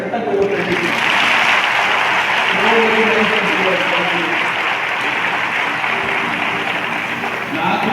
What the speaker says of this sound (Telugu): మీరు ఇంకా చప్పట్లు కొడుతుంటే ఇంకా సంతోషంగా అనిపిస్తుంది